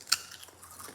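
Someone bites into a strip of crispy microwaved bacon, giving one sharp, close crunch followed by quieter chewing crackles.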